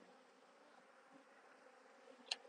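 Honey bees buzz around hive frames as a beekeeper lifts out the first frames: a faint, steady insect drone throughout, with one brief tick near the end.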